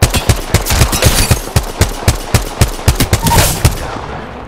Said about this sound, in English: Firing on subjects.